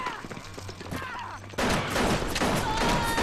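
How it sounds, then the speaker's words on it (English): Gunfire in the BioShock video game: a quieter stretch of game sounds gives way to a loud, dense, sustained burst of shooting that keeps going to the end. "Let me shoot you a bit."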